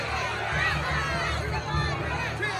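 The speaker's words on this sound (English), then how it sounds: "They shouted back." A mob shouting back in a dramatized reading of the Gospel of Mark, a dense roar of many voices blended together, steady and fairly distant.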